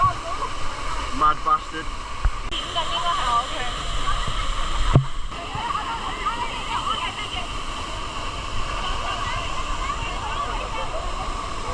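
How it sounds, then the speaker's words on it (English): A roaring waterfall in Bali pours continuously close by during white water rafting, a steady broadband rush, while voices shout and talk over it. "the biggest waterfall I've ever seen"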